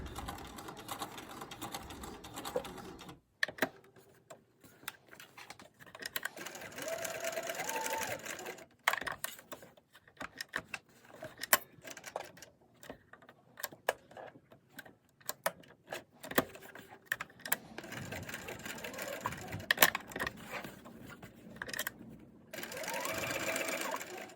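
A sewing machine stitches a case, running in bursts of rapid mechanical whirring with short pauses and brief handling clatter between runs, close and steady.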